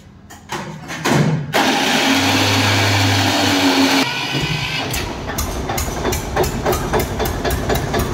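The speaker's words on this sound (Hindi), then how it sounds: "इसे स्टार्ट करके दिखाओ एक बार" A heavy diesel tractor engine starts with a loud grinding crank, then settles into a rough, loud, rapidly thumping idle.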